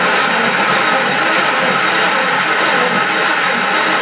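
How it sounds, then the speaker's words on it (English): A GrainMaker No. 99 grain mill grinding grain, a loud, steady, close grinding rumble with a rough, gritty hiss that holds constant throughout, with no talking. "And what you want to do is you want to grind just a little bit."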